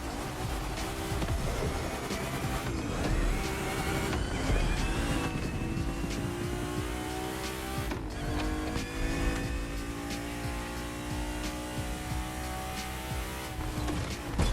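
Engine of a BMW 3.0 CSL in The Crew Motorfest, a steady loud drone that climbs in pitch through rising revs and gear changes, running continuously with no talk over it.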